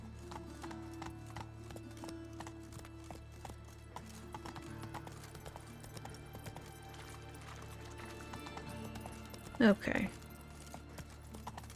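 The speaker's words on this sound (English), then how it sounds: "Roach does not want to go up there." Hooves of Roach, the horse in The Witcher 3, clopping in a quiet steady rhythm under game music and ambience, with a brief louder burst near the end and a short spoken word.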